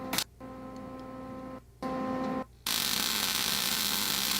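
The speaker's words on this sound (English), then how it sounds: "This is a bit of MIG welding to finish up." A MIG welder runs in a few humming bursts separated by brief pauses, then settles into a loud, sustained harsh crackling hiss, close up with no talking.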